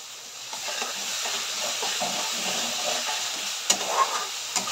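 A hot pan of fish curry hissing and sizzling loudly as water is poured in and stirred, a dense close steam hiss with scraping stir sounds and a few clinks near the end, no voices.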